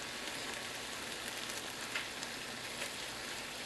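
Bacon strips frying in a pan, a steady close broadband sizzle with faint crackles and no talk.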